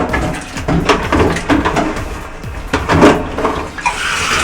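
Running water rinsing a human hair wig at a sink, splashing and gurgling in irregular bursts close to the microphone, loud and uneven as the hair is worked under the stream.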